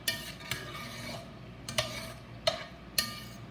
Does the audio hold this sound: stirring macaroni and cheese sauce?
yes